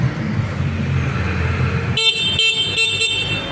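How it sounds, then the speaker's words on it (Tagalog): Horn of a Motorstar Easyride 150N maxi-scooter, sounded in three or four loud, short blasts after a stretch of low idle and background noise, no talking. "ito po yung kanyang horn. Bah, malakas ang horn"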